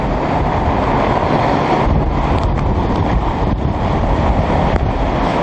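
Strong storm wind roars in the city in a continuous loud buffeting blast, hitting the microphone hard and drowning out everything else.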